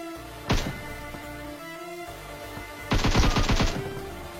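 Gunfire in the video game PUBG, from a Tommy gun: one short burst, then after a pause a longer rapid automatic burst, loud and sharp with nobody talking.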